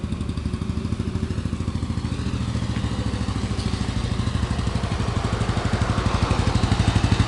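A 1959 BMW R26 250cc single-cylinder motorcycle engine idles steadily with a throbbing, rhythmic low rumble and light mechanical clatter, close by and gradually getting slightly louder.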